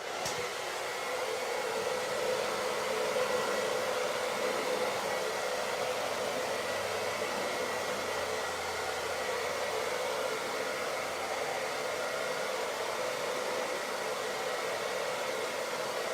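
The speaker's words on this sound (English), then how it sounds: "I'm just going to turn on the hairdryer" A hair dryer blows over acrylic pour paint with a loud, steady whooshing roar for the whole stretch, unchanging and close by.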